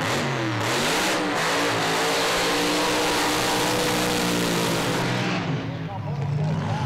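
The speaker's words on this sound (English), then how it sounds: "Deno Brzezinski uses the 8th mile for the burnout" A drag race car roars through a burnout, its engine revving hard and sustained at high volume with tire noise, while a commentator talks over it.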